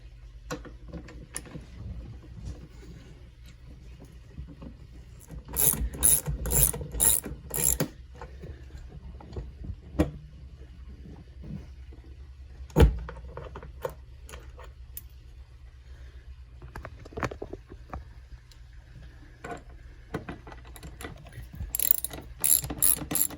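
Ratchet wrench clicking as it backs out 15mm seat bolts on a minivan, with bursts of rapid ratcheting separated by quieter pauses and occasional metallic knocks, no talking.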